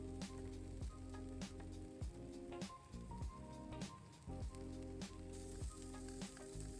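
Spicy, fatty chorizo sizzles steadily on a grill, a dense crackling hiss broken by pops and occasional clanks of tongs or grate, close and continuous with no talking.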